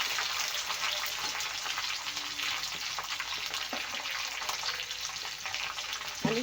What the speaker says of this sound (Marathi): कॅरेट हे पूर्ण आपल्याला छान तेलात भाजून घ्यायचं आहे